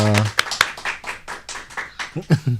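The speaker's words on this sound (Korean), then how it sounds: "큰 박수 한번 주십시오" Clapping breaks out in a Korean talk-show studio as a guest lawyer arrives. A few short bursts of hand claps are mixed in with a loud speaking voice that dominates.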